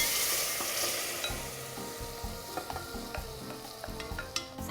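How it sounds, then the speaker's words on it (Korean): Beef sizzling and being stirred in a hot pan for Korean seaweed soup, a steady close frying hiss with scattered scraping and clicking strokes of a utensil, no talking. "미역이 불려지는 동안 고기를 볶아 볼게요."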